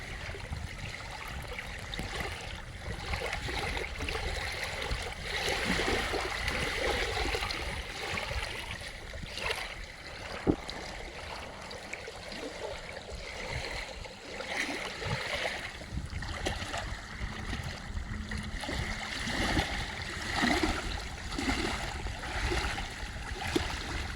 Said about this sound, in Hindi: पानी की आवाज़ सुनना चाहेंगे?